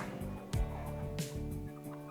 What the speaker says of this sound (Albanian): Bacen Rifat Mazreku, i cili kujdeset për 100 pula.